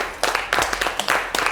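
An audience applauds a guest with steady, fairly loud clapping that sounds close and dense.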